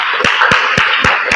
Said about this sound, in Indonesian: Tepuk tangan buat Mas Aska dan Mas siapa?